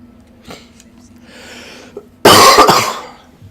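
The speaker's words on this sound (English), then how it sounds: "Please excuse coughs." A single sharp, loud cough bursts out after a few quiet breaths and small throat noises, then fades quickly, over gameplay of Ni no Kuni.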